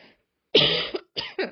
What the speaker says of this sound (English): I'm going to be coughing throughout this voiceover